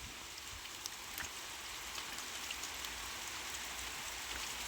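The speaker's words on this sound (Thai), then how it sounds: "ตอนนี้ก็ฝนตกแล้วพี่น้อง เบิ่งบรรยากาศฝนตกอยู่เกาหลี" Steady rain falls in Korea as an even, dense hiss of drops on surfaces, heard alone with no voices for the whole stretch.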